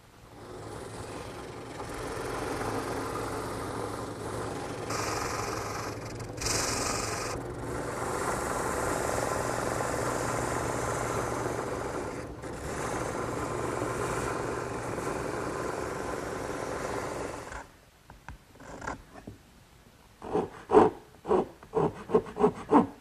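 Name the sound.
rasp filing wooden chair slats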